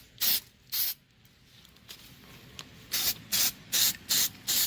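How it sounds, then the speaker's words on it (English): A spray paint can hisses in a run of short, loud bursts as the inside of an object gets coated. Two bursts come first, then a pause, then five more in a steady rhythm, close up. "Go ahead and spray the inside really nice."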